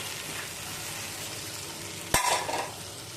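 Eggs for a Kerala-style egg roast sauté in masala in a pan, giving a faint, steady sizzle with one sharp scrape of a spoon partway through.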